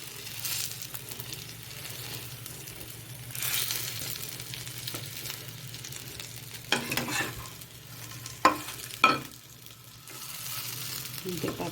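An aloo paratha fries in oil on a pan with a constant soft sizzle, joined by a few sharp spatula clatters and scrapes near the end.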